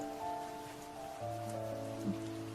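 Steady rain falls outside a home during a rainy evening, a faint, even hiss with a low hum underneath.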